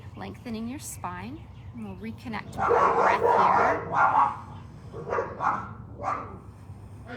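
Dogs barking and yipping indoors, with several sharp barks and whimpers in a burst, then a louder flurry of barking in the middle, heard under and between a calm voice talking throughout.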